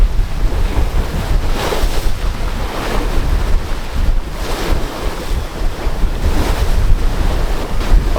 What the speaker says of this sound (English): we got a great southerly wind right now coming out of Topo